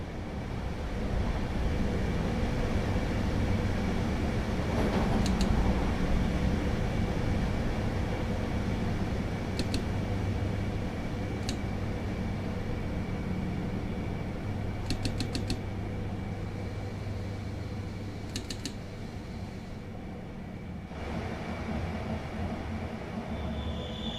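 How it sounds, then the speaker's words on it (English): An electric train, a DB BR 101 locomotive in a train simulator game, rumbles steadily and slows while braking to a stop at a station, with a continuous low drone, occasional sharp clicks, and a drop in noise near the end. "Approaching the station. Begin applying a small amount of braking force"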